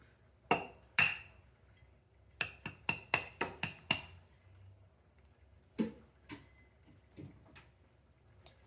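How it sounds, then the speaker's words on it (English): Sharp, close knocks and clicks in a home kitchen as eggs are cracked on a hard edge, a quick cluster of firm taps followed by softer scattered ones, no talking. "Now we're gonna crack our eggs."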